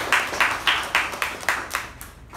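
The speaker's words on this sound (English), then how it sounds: "A big round of applause for Toastmaster Apoorva" A few people clap for a Toastmaster at a club meeting, a sparse rhythmic series of about eight distinct claps that slowly fade, in a quiet room.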